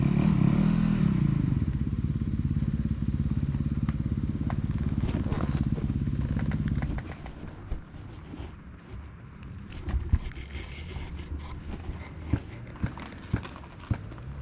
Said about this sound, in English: There's Brian on the YZ250FX.